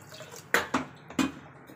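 Water is poured into a pressure cooker holding dal and chopped vallarai keerai greens, giving three short, close splashes over a quiet background.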